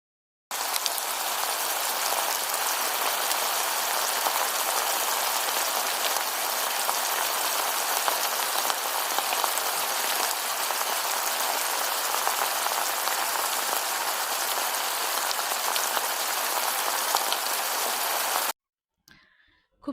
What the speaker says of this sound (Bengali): খুব সুন্দরভাবে ভেজে নিচ্ছি